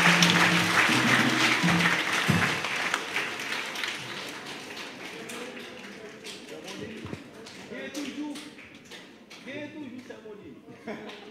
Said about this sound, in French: Semoline, applaudis encore Semoline pour nous avec la communauté